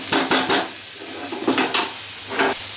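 Onions and curry leaves sizzle in hot oil as a utensil scrapes and stirs the pan in several quick, rhythmic bursts, the frying hiss continuing close up between strokes.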